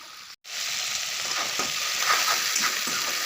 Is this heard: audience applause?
no